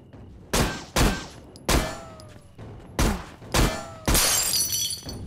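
Enemy shield shattering in the zombie shooter game Zompiercer, amid a series of six loud, sharp gunshot-like blasts spaced about a second apart, each ending in a ringing glassy crack, the last burst bright and breaking.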